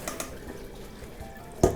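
Eggplants being rinsed under running water, a low trickle and splash lasting a couple of seconds, followed by a sharper burst of water as they are drained in a colander.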